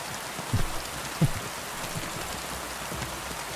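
Steady rain falls in the medieval world of Kingdom Come: Deliverance 2, a soft, even hiss with two brief low thumps near the start and no voices.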